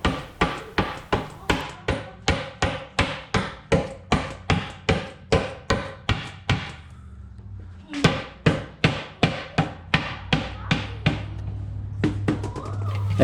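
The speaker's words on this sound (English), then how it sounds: "The rubber mallet works with lightly tapping it" Rubber mallet tapping a garage cabinet top into place, a close series of light, evenly spaced knocks, a short pause, then more taps with a low hum underneath.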